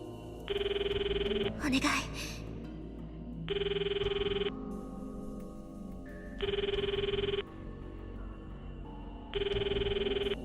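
A telephone rings in the Steins;Gate 0 video game, four loud repeated electronic ring bursts about three seconds apart over a dim background with brief footstep-like noise.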